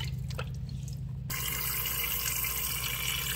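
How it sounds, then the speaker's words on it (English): Tap water running into a pot in a kitchen while meat neck bones are washed for soup, first faint dripping, then a sudden loud steady gush of filling water that continues to the end. "I just run it through this water, and then I drain it, and I fill the pot back up with some clean water."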